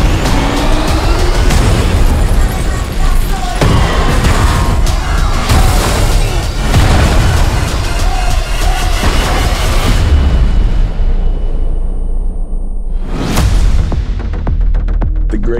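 A bomb goes off in a movie trailer, heavy booms and rumbling thunder through dense, loud action music, with another sharp blast surging near the end.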